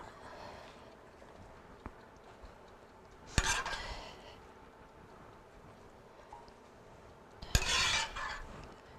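Food being stirred in a bowl in a home kitchen: two separate bursts of scraping and clinking, each lasting about a second, over quiet room noise.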